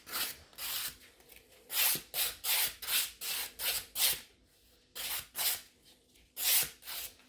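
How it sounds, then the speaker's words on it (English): A hand nail file rubs back and forth across the corners of a natural fingernail, close and clear, in quick regular rasping strokes grouped in short bursts with brief pauses between. "Then etching the corners of my file."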